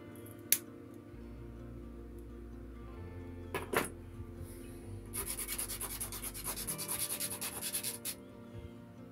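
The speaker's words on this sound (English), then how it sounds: "Clean that up a little bit with sandpaper." Sandpaper rubs across a small wooden model ship part in a quick run of close, scratchy back-and-forth strokes, preceded by a few light knocks and clicks of handling on a quiet workbench.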